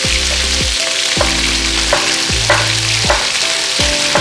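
Ingredients for chili crab fry hard in hot oil with a loud, constant sizzle, while a utensil stirs and scrapes the pan in repeated strokes about every half second.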